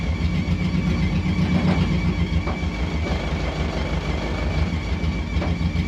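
A VW bus fitted with a Subaru engine pulling away in first gear, a steady loud in-cab engine drone with road rumble and rattles that holds through the whole stretch, no talking.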